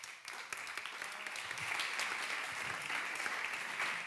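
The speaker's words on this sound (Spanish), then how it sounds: "Un aplauso, por favor." Audience applause at a wine-tourism talent panel in Haro, La Rioja, as a moderator is introduced; steady, dense clapping fills the room for about four seconds at moderate loudness, with no one speaking over it.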